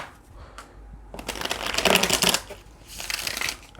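Tarot cards are riffled and shuffled in quick bursts, a crisp papery flutter close by, with a short pause between shuffles.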